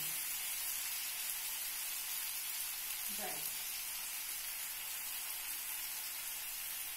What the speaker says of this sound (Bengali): ওলকপি আলুটাকে ভালো করে ভেজে দিচ্ছি।